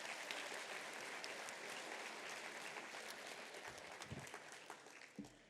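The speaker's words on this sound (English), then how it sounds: "let's give Devin a round of applause." Sustained applause from a school audience at a senior decision day ceremony, recognising a graduating student headed for the Marines; dense clapping throughout at moderate distance, thinning slightly near the end with a few louder claps.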